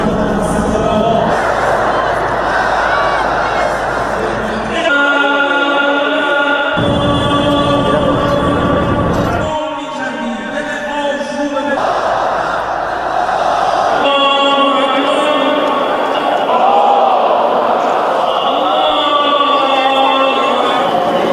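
A huge crowd of mourners at Ayatollah Khamenei's funeral in Tehran, massed voices chanting and calling out in loud, sustained waves that swell and break off in distinct sections throughout.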